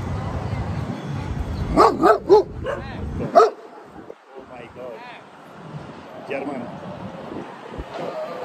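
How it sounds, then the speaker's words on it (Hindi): Dogs barking outdoors in a group, several sharp barks in quick succession early on and then scattered softer yips and whimpers, heard under a person talking. "देखो यहाँ पे कितने सारे डॉग्स हैं यहाँ पे"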